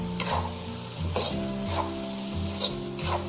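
Minnan thin noodles stir-fried over medium heat in a wok, a close, steady sizzle punctuated by rhythmic scraping and tossing strokes roughly every half second, with a faint tonal hum beneath and no talking.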